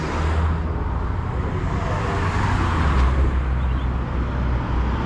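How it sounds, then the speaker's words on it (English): A big old-school truck rolling past at a classic car show, a loud steady low engine rumble and road noise close to the listener, with no talk over it. "Look at this truck thing coming here, fella."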